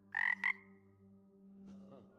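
A frog in a video game gives two quick bright croaks over a low steady game background hum, followed by a quieter rustling sound.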